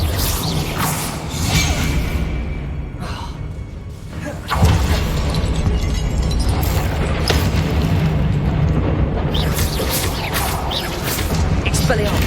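Spell effects from the Hogwarts Legacy video game, a series of whooshing casts, bursts and booming impacts amid ongoing combat noise, with a voice calling out spell names throughout.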